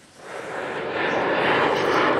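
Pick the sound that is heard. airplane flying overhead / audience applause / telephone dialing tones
airplane flying overhead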